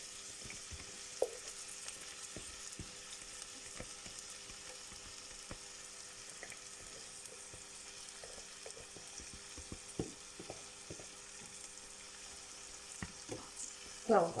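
A spice mix fries in a pan for Qatari machboos, a faint steady sizzle broken by scattered clicks and scrapes of stirring, ending with a louder clatter.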